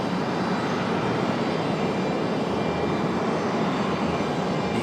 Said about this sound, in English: we got that Delta A319 out for departure, getting ready